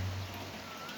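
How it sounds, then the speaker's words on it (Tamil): Rain falls steadily in Coimbatore, a dense even hiss of drops with a low hum underneath, constant and moderately quiet. "எல்லாம் பாருங்க, மழை பெய்யுது."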